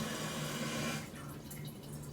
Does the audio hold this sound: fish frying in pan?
no